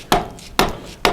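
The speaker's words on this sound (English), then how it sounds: "The best way to kind of do that is an old dead blow hammer, and you just beat on them." An old dead blow hammer beats on stuck engine valves of an Allis Chalmers C tractor, three heavy separate thuds spaced about half a second apart, close and loud with no talking.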